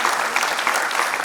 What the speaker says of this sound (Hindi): उनके लिए 2000 तालियां बजाई